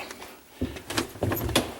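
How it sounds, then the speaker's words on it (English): A phone booth door in a restored 1930s–40s style station swings shut with a few close knocks and rattles, followed by a brief clatter of the latch. "You shut the door."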